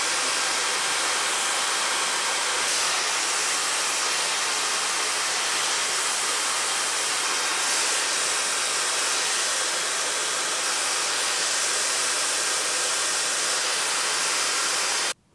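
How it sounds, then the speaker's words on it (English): Hair dryer with a diffuser blowing on hair, a loud, steady, hissing rush that runs continuously for about fifteen seconds before cutting off abruptly. "I am going to go in and diffuse my hair, just that back middle section that is still wet"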